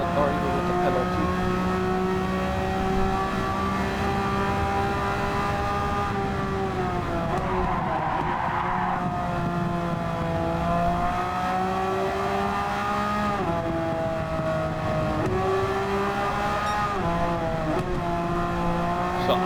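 A Subaru WRX Gr.B road car racing in Gran Turismo 7, its engine droning steadily and loudly, pitch climbing and dropping through gear changes and corners, with someone talking over it at times.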